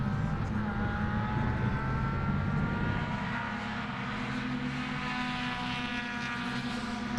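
Suzuki Swift Sport rallycross cars race past together on a mixed loose and tarmac circuit, a dense, steady engine roar with rising and falling pitch lines and no talking.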